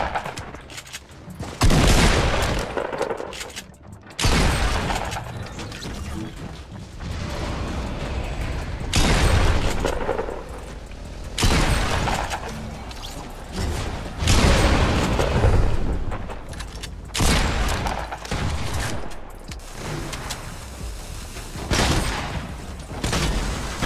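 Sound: pump shotgun shots in the video game Fortnite

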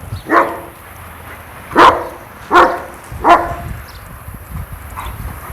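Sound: dog barking

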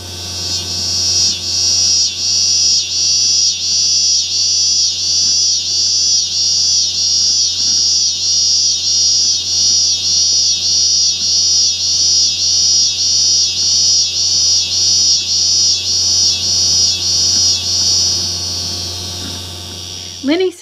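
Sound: scissor grinder cicada pulsating song

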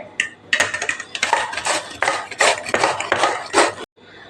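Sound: grating bottle gourd

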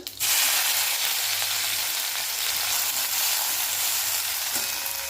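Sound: green chili paste added to hot oil with mustard and cumin

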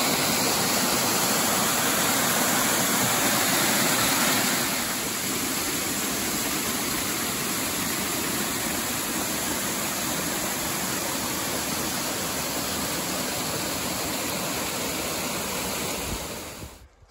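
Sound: waterfalls

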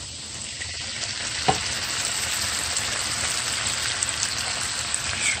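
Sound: stirring seafood boil garlic butter sauce with lemon juice

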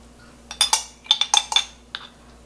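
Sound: spoon clinking in bowl while adding minced garlic for kimchi

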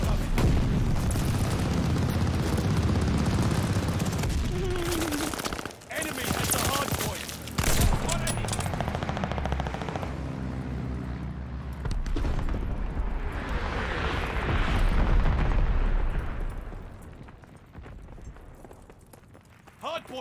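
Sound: bombing run explosions in Call of Duty Vanguard video game

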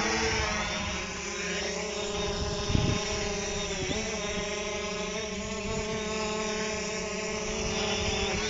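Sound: Hubsan Zino H117s drone flying

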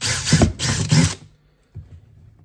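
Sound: power drill drilling a hole with 3/16 bit

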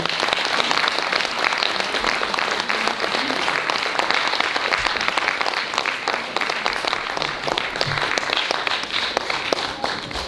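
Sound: audience applause for a band

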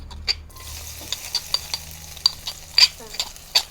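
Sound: stir-frying chili and garlic in hot pan

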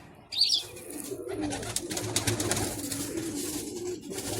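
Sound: pigeon cooing

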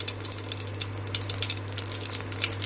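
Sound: whole spices and mustard seeds sizzling in hot oil

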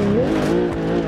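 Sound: car drifting with tire squeal in BeamNG video game

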